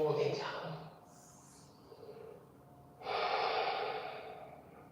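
During a yoga child's pose, a person takes deep belly breaths: a long, close inhale and a longer, airy exhale, with a quieter pause between them.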